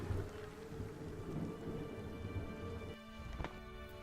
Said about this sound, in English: We're going into a storm here.